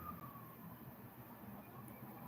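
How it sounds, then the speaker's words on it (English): An ambulance siren wails steadily outdoors, distant and faint, a thin sustained tone drifting under a constant noisy background with no talk. "You hear the ambulance out there"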